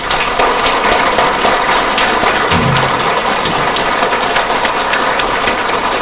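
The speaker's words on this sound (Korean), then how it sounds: "저는 성령 기도에 나와서 여러분 박수 원 없이 쳤으면 좋겠어요" Congregation clapping hands together at a Catholic church prayer meeting, a dense, steady roar of many hands kept up loud and even throughout, with no voices over it.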